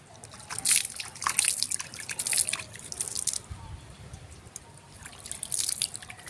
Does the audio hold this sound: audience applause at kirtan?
no